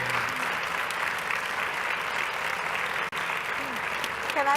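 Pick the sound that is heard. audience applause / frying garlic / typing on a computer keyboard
audience applause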